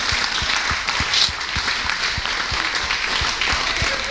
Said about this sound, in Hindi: ताली बजाना है तो बढ़िया से बजाओ।